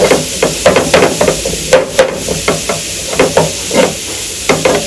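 Food frying lightly in a pan, with a steady sizzle broken by repeated clattering stirs and scrapes of a utensil, close and fairly loud, with no talking.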